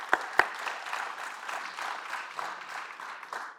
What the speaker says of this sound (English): So please give them all a round of applause for what they do.